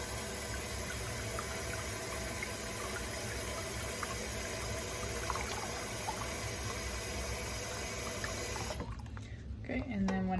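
Warm water running steadily into an enema bag, a continuous close splashing fill that stops abruptly near the end, followed by a brief clatter.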